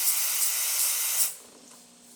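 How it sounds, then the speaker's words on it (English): Steam wand on a DeLonghi espresso machine, just repaired after a broken knob was replaced, hissing loudly and steadily for over a second before cutting off and fading to a faint residual hiss. "So let's look at the steam."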